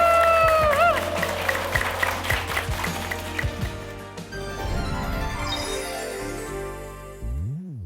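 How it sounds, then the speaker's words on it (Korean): Audience applause and some cheering close a talk concert, with the clapping mixed under music and some voices, then fading toward the end. "오늘 참석해주신 모든 분들께 감사의 박수 드리며"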